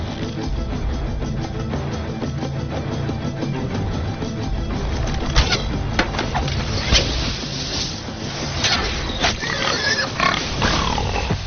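A huge boar in a Baahubali action scene grunts and snorts beneath a loud, dense film soundtrack with a steady engine-like rumble and scattered sharp hits.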